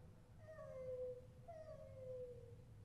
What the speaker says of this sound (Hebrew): חתולים מייללים בחצר של השכנים